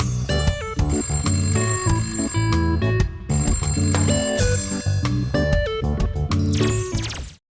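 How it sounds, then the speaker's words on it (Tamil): A melodic telephone ringtone plays for an outgoing call, a steady chiming tune of bright repeated notes that runs loud and alone for several seconds before cutting off. "கனெக்ட் பண்ணுங்க சாண்ட்ராக்கு கால்"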